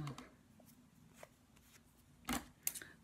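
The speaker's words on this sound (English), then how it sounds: "I'm gonna cut that off." Scissors cut craft material in a few quick, sharp snips, faint and close, with soft handling rustles between them.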